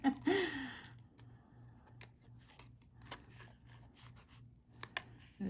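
Quiet scissor snips and scraping cuts come in small irregular bursts up close as adhesive bits are cut away from a sea turtle's foot, with a faint low hum underneath.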